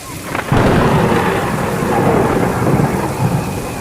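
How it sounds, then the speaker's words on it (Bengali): A loud thunderclap breaks abruptly and rolls on as a long rumble through heavy, steady rain in a stormy night beside a forest and graveyard. "হুটহাট বাজ পড়ছে এদিকে সেদিকে"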